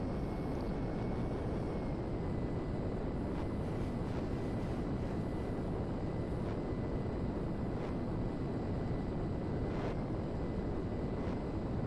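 A jet plane taxis in Grand Theft Auto V, giving a steady, dense engine roar and hiss for the whole stretch, with a faint high whine held on top and no voices.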